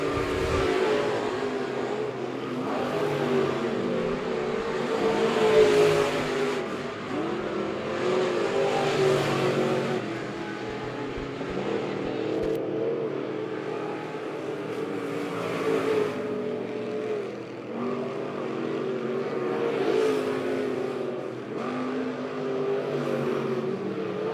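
Late model race cars lapping Monett Motor Speedway, with a continuous roar of engines rising and falling as the pack circles, heard from a distance with waves of louder passes.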